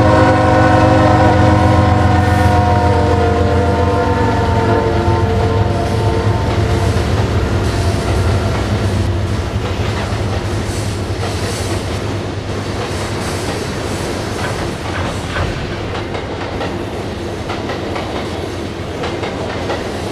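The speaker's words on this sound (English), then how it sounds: "the crew still gave us a show as they gave us a horn blast coming off of the bridge" A Norfolk Southern freight train on the Gunnison District sounds a long, loud horn blast as it comes off a bridge. The horn holds for several seconds, then fades into steady rumbling and clattering of rolling rail cars.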